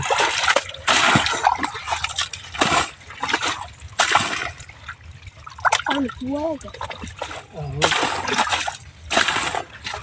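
Water splashes and trickles in bursts as a fishing pond is drained, with gushing stretches broken by pauses while a person talks between them.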